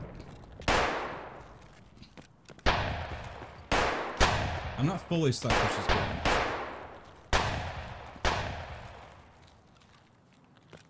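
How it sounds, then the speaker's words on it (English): Repeated loud gunshot blasts in Escape from Tarkov, single booming shots spaced a second or so apart with echoing tails, while someone talks briefly between them. "I'm hearing all these gunshots"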